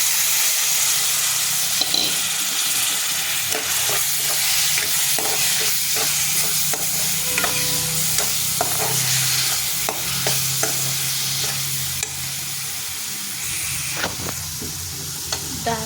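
Lentils (dal) tipped into chopped spring onion greens frying in a pan, then stirred: a steady close sizzle and hiss with scraping spoon strokes throughout.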